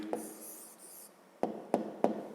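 A pen writing an answer by hand on paper during a math exercise: soft scratching strokes, then three sharp close taps in quick succession, quiet with no talk.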